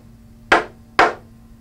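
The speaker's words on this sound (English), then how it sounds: "he needs to give it a firm whack to seat the square head on the carriage bolt into the wood" Hammer striking a square-head carriage bolt into wood during loft bed assembly, two sharp, loud whacks about half a second apart over a faint steady hum.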